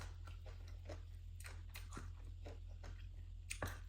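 Quiet, close chewing and crunching of som tam papaya salad eaten with fresh bitter melon, with soft irregular bites and squishes over a steady low hum.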